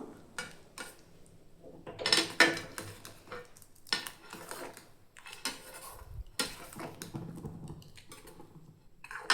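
Green gram curry (hesaru kalu palya) stirred in a metal pan, a spoon scraping and clinking against the pan in irregular bursts, close and clear, with quieter gaps between strokes.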